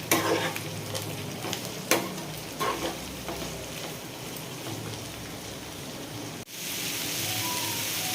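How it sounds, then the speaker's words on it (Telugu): Ivy gourd pieces frying in a pan are stirred with a spoon, giving a steady close sizzle with scraping clicks and clatters, then a brief pause before the hiss resumes slightly louder. "వేసుకున్న దొండకాయ ముక్కల్ని బాగా కలుపుకోవాలి."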